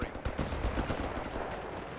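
Mortar and machine gun fire from the World War II strategy game Company of Heroes 3, a dense, continuous barrage of rapid gunfire rattling throughout without a pause.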